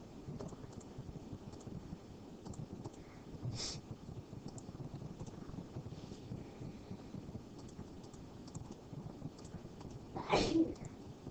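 A single sneeze bursts out near the end of a quiet indoor geometry lesson on trapezoids, short and fairly loud above a low background hiss, with a smaller breathy sound earlier.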